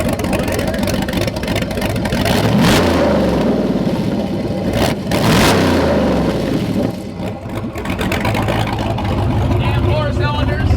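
A loud LS V8 engine in a BMW E36 revs repeatedly, its pitch rising and falling in a couple of strong surges over a constant rumbling idle, close and throaty.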